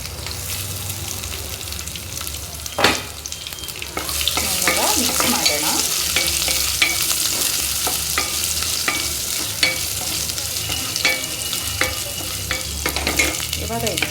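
Ginger and garlic frying in a pan for an egg palya, with a steady close sizzle and repeated spoon knocks and scrapes. A sharp clack comes early, then the frying grows louder and more crackly.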